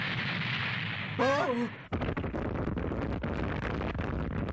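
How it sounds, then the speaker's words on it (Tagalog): Firecrackers burst in an animated episode of Flame of Recca: a short rising voiced cry, then a rapid string of crackling pops and bangs over a noisy background. "Mga paputok!"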